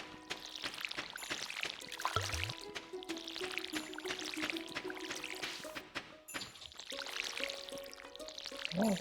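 Watering can pouring water onto crops in the farming game Stardew Valley, a steady splashing trickle running for several seconds with brief breaks and a few small drips, alone and fairly quiet.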